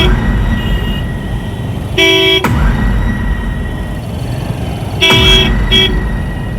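Vehicle horns honk twice in traffic, a long blast followed later by another long toot and a short one, over steady road rumble.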